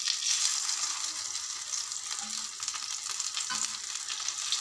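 Slices of raw plantain fry in hot oil for a roast-style varuval, giving a steady, close, hissing sizzle that runs unbroken throughout with no voices.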